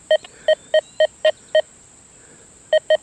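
An XP Deus 2 metal detector with an HF2 coil at 60.6 kHz sounds off on a nickel in mild ground, giving eight short, clear electronic beeps: six evenly spaced, a pause, then two more, over a faint steady high whine.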